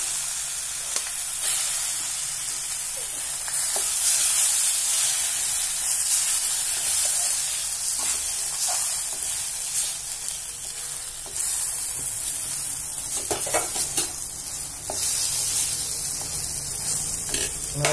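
Rice tipped into a pan of frying pulao with groundnut and curry leaves, a steady close sizzle with scraping stirs and brief spoon knocks running throughout, no voices.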